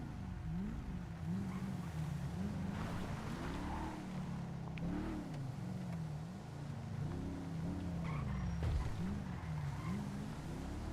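A convoy of trucks in a roleplay driving game, with engines droning and rising and falling in pitch as they travel. The steady rumble runs throughout, with a few brief knocks.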